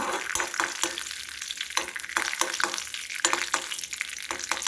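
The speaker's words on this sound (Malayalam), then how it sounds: "നന്നായിട്ട് വറുത്തെടുക്കണം" Steady sizzling of frying in hot fat, with repeated scraping and clinking strokes of stirring at a loose, irregular rhythm, close by.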